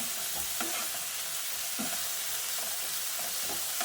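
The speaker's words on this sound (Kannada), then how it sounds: "ಈಗ ಇದನ್ನು ಚೆನ್ನಾಗಿ ಎಣ್ಣೆಯಲ್ಲಿ, ಒಗ್ಗರಣೆಯಲ್ಲಿ ಫ್ರೈ ಮಾಡಬೇಕು" Amaranth leaves fry in hot oil with a spice tempering, a loud, dense sizzle close up and continuous throughout, with occasional scraping stirs and no talking.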